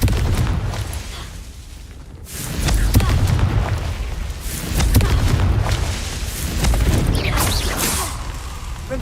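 Confringo fire spell blasts in the Hogwarts Legacy video game, a deep booming explosion swelling around the two-second mark and rolling on with repeated low rumbling bursts through the rest.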